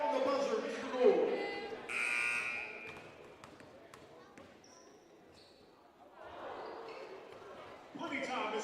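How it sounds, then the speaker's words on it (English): A buzzer sounds at a high school boys basketball skills competition in a gym, a sustained electronic tone amid bouncing balls, crowd noise and an announcer's voice. "On the buzzer, Mr. Gore"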